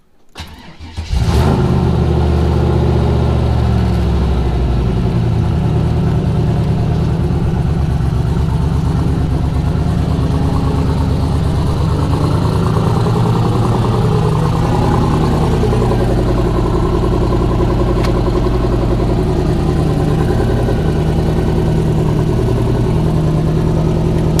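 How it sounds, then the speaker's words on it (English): Engine of a Fox-body Ford with a turbocharged 6.0 LS V8 cranks over after a second of quiet, catches and settles into a loud, steady, rumbling idle that runs close and continuous, with no talking. "Let's back her up and see if it works. And see if the car starts."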